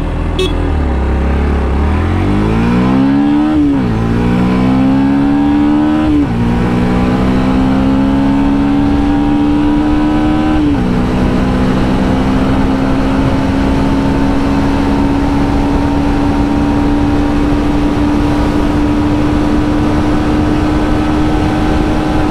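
A Yamaha FZX 150 motorcycle accelerates hard on an open road through several gear changes, engine pitch climbing, dropping at each shift and then holding a steady high drone, with loud, constant wind rush throughout.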